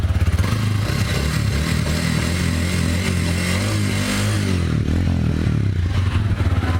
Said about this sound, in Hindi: अब एक बार गाड़ी को स्टार्ट करके इसका साउंड सुनेंगे